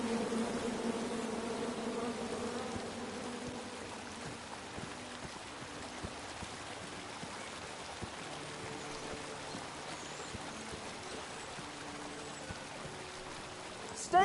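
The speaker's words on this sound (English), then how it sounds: "Come at me, bees!" Bees buzz in the video game King's Quest, a steady, dense droning hum that fills the scene continuously at moderate level, with a faint rushing undertone and no break.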